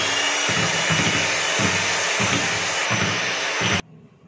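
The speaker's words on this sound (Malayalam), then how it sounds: "നമുക്കിതൊന്നിനി ബീറ്റ് ചെയ്തെടുക്കാം. ഞാൻ ബീറ്റ് ചെയ്യുവാണേ." An electric beater whirs loudly and steadily through eggless chocolate cake batter, its pitch wavering as it is moved in the bowl, then cuts off abruptly near the end.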